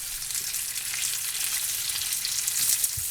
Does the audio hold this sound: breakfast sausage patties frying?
yes